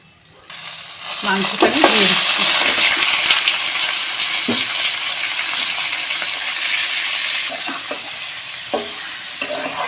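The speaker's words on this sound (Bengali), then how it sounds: "আমি একটুখানি কষিয়ে নেব হালকা ভাজা ভাজা করবো" Ingredients for a chicken dish hit hot oil in a pan and sizzle loudly and steadily, with intermittent scraping of a spatula or spoon as the mixture is stirred and fried.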